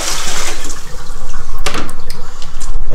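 Water from a cold-water thaw is poured out into a kitchen sink, a loud continuous gushing splash with a few sharper sloshes partway through, no voices.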